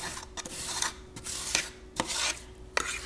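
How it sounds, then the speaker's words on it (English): A fork scrapes and rakes through half-frozen Italian lemon ice as crystals form, giving repeated short gritty scraping strokes at an uneven rhythm, close and fairly quiet, with no talking. "The ice crystals are just starting to form in here. And all that you do is you go along and you scrape everything."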